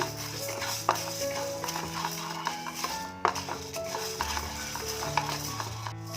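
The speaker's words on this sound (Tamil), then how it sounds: "உளுந்து நிறம் மாறி வர வரைக்கும் வறுத்து எடுத்துக்கணும்." Urad dal dry roasting in a pan for horsegram idli podi, stirred with a spoon: a steady scraping rattle with sharp clinks of the utensil against the pan, close and continuous, with a hum of sustained tones underneath and no speech.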